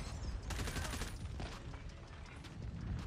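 Hip-fire gunshots in COD Mobile, a rapid, continuous stream of shots with a dense, steady rattle from start to finish.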